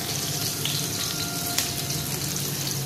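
Finely chopped garlic sizzling in hot tempering oil while cooking Rajasthani dal, a steady close crackling fry with no pause across the short stretch.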